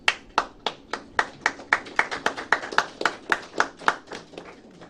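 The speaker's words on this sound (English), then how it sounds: "Thank you for the clap." Clapping at a live media show launch, a series of sharp, evenly spaced claps in a steady rhythm, fairly close and clear, with no voices.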